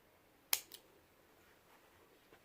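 A single sharp snip of scissors cutting crochet yarn while finishing a beginner beanie, quiet and close, followed by a softer second click and faint handling.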